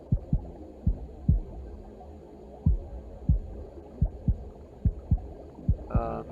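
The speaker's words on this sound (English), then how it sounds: "when I press this tempo section here, I could just keep controlling the heartbeat" A synthesized heartbeat played on a tempo-controlled sound device, a steady run of deep low thumps in regular pairs, close and distinct over a faint hum, ending with a brief higher buzz.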